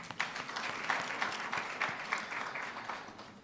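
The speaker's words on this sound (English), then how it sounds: "Let's give another round of applause to our speaker, Dr. Mostert." Audience applause at a university research symposium session closing, a steady patter of many hands clapping at moderate distance for about three and a half seconds, fairly quiet overall.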